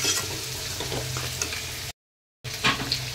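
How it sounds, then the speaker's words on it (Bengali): Mutton curry with spices sizzling and frying in a pan while being stirred, a steady close hiss broken by a short silent gap. "মটনটাকেও দিয়ে দিয়েছি, ভালো করে মশলার সঙ্গে মিশিয়ে নেব।"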